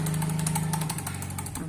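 A Yamaha Mio M3 125 scooter engine with a faulty kick starter runs, giving a rapid, steady crackling clatter over a low hum for a short stretch, close by, with no talk.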